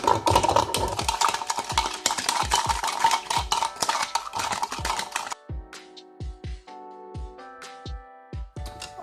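A utensil stirs sushi rice mixed with rice vinegar in a bowl, making fast, rhythmic scraping and clicking strokes close by. The stirring grows sparser and lighter toward the end.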